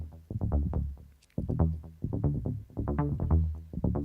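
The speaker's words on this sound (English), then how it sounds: "So this is what the arpeggiator sounds like." A synth arpeggio plucks short notes in a quick, repeating pattern that alternates between higher and lower pitches, with a brief pause partway through.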